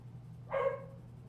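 A single short dog bark sounds at a moderate distance, standing out briefly against a faint low hum.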